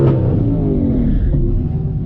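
A twin turbo 2020 Ford Mustang GT on a drag strip rumbles loudly and close, its engine note rising steadily as it accelerates, with deep continuous roar and no talk.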